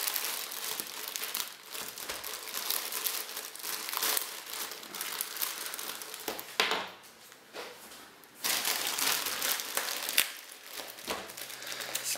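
Soft plastic packaging of an eBay parcel holding a Sega Game Gear being unwrapped, with steady close crinkling and crumpling that briefly drops quiet around the seventh second before resuming loud and continuous.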